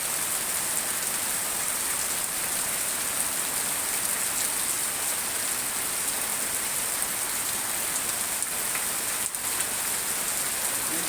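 Heavy rain pours steadily in Cikarang, a dense, even hiss of drops striking surfaces that stays constant and fairly loud throughout, with a couple of faint brief knocks near the end.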